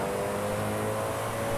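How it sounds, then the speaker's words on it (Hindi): Koenigsegg supercar engine roaring steadily in a racing video game, a loud continuous engine drone with no talking. "भाई ऐसी इंजन रोर करने की आवाज आ रही ना बगल से"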